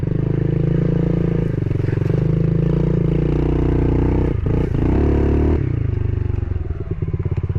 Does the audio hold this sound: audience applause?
no